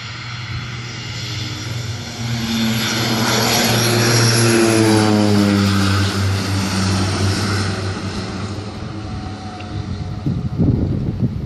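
A Winair Twin Otter propeller plane departs Canefield Airport, its loud, steady twin-prop drone building, holding near and strong, then slowly easing off as it moves away, with wind noise throughout.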